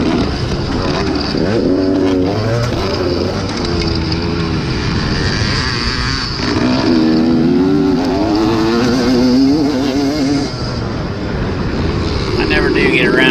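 Motocross dirt bikes, including a Honda and an older Yamaha, racing at the 2021 White Lightning event: loud continuous two-stroke engine whine rising and falling with throttle, with a voice talking over it.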